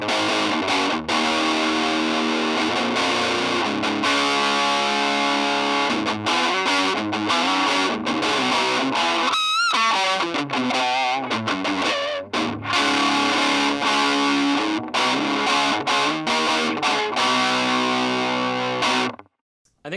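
An electric guitar played through a $49 practice amplifier rings out in distorted, effects-laden chords and riffs, picked up by a microphone, continuous and loud with a brief sliding squeal midway.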